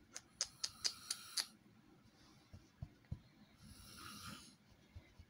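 A man snores softly in the background of a quiet room, with a few faint, drawn-out snores following a quick burst of rapid clicking at the start.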